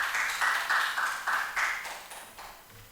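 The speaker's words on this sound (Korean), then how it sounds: "박수." A church congregation applauding during a worship service, a short burst of clapping that swells in rhythmic pulses and fades away within about three seconds.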